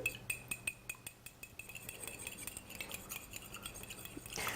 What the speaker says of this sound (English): I've got, 3 eggs here. I'm just going to beat them